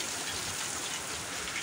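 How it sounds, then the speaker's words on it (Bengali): Heavy rain pouring down steadily, a dense, even hiss of falling water with no gaps, close and fairly quiet, with no voices. "দেখো একদম ঝমঝমিয়ে বৃষ্টি হচ্ছে"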